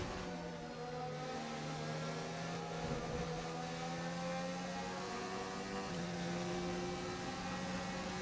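F1 car engine in the F1 2019 racing game, running hot and rich during a career-mode race, a steady droning whine with harmonic layers that shift slightly with revs, loud and continuous with no talk.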